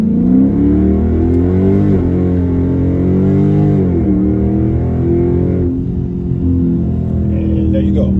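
A 2018 Dodge Charger Daytona 392 launches hard on launch control, its V8 roaring loud and close as the pitch climbs, drops briefly at each gear shift, then climbs again.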